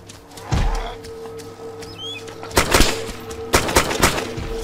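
Gunfire in the Arma 2 DayZ mod, a loud single shot followed by two clustered bursts of rapid cracks, fairly close with a faint background hum between them.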